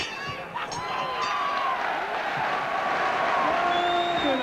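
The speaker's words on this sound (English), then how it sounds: "Again, the crowd reacting." A boxing crowd at the 1995 Mike McCallum vs Fabrice Tiozzo championship fight gives off a broad, roaring murmur with rising shouts and whistles, heard from a distance under a commentator's talk.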